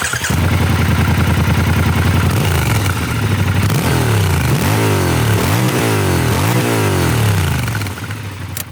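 A Triumph Scrambler 1200 XE with a liquid-cooled 1200cc parallel twin is revved close by. Its loud idle climbs into several rising and falling blips with a rumbling, crackly exhaust note and no talk.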